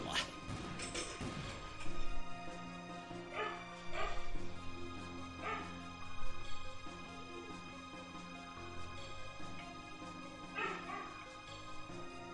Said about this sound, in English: a couple of the dogs barking at something outside